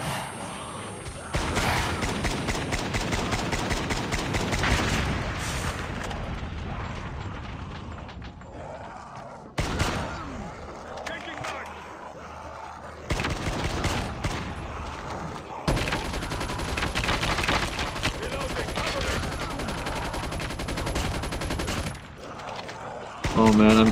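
SKS rifle gunfire in an online shooter video game, with rapid loud shots in dense bursts broken by short pauses, mixed with game sounds and occasional player voices.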